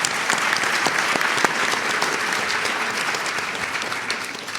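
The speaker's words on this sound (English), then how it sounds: "give him a round of applause" A crowd gives sustained applause at a live stage event in the desert, steady dense clapping with a few sharper individual claps standing out, continuing evenly throughout.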